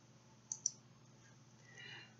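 Two quick, crisp clicks as delete is pressed on a computer, close and quiet against a faint hum.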